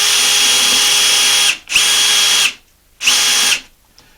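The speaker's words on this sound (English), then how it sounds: "We're going to drill a couple holes." A power drill bores holes in a hemlock board, giving three loud, close, high-pitched whining bursts of about a second each, separated by short pauses.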